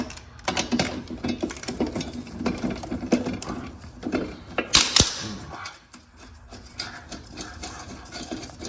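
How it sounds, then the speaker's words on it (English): Bolts being loosened from the blade of a Honda lawn mower, rapid ratcheting clicks in irregular bursts with a sharp metallic clank midway, close and fairly quiet. "I'm going to take off these bolts"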